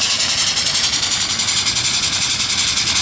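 A small steam pump runs on a live steam logging locomotive, giving a loud, steady, close mechanical chuffing hum with a fast, even pulsing beat and no voices.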